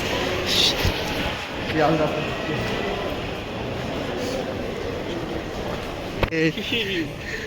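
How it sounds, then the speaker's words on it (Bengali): A metro train in India, about to run under the Ganges, rumbles along at steady speed with a constant roar and rattle, while people talk over the noise. "আমরা এখন মেট্রোতে প্রবেশ করছি"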